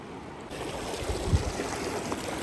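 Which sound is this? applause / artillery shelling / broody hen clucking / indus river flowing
indus river flowing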